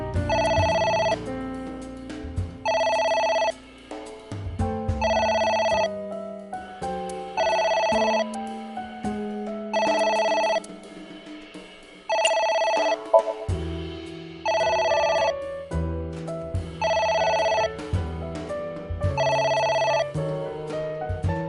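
A phone rings repeatedly in the video game AI: The Somnium Files, with evenly spaced bursts of electronic ringing over a steady background music bed, fairly loud and without talk.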